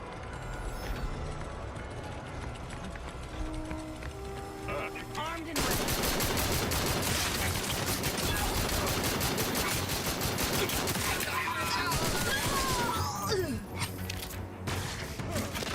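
Madsen and Bren machine guns fire in Battlefield 6, rapid bursts of automatic gunfire that turn loud and continuous midway, with mechanical clatter around the shots.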